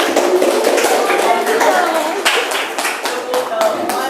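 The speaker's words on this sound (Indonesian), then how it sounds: "Beri tepuk tangan dulu untuk kelompok." A university classroom of people applauding a student group steadily, dense overlapping claps sustained throughout at a loud, even level.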